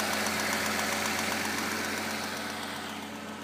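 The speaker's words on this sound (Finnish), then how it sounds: "Muutama venttiili naputtaa kuulee" A BMW E38 with the M73B54 V12 engine idles steadily at close range, a constant low hum with faint valve ticking woven through it, fading slightly toward the end.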